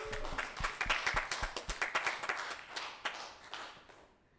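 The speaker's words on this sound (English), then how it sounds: "Let's give Roger another hand." Church congregation applauding a guest minister, a dense patter of many hands clapping steadily at moderate volume before tapering off into near silence at the end.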